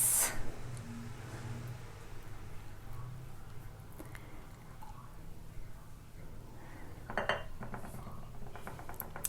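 A small spatula scrapes condensed milk out of a can with faint, intermittent scraping and light metallic clinks, opening with a sharp knock and followed by a short clatter later on.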